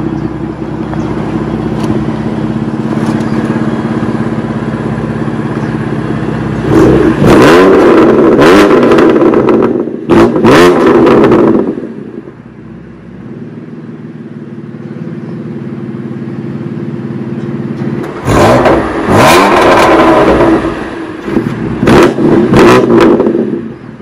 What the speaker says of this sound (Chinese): 那我们来看一下 F80 改雷达共的声音。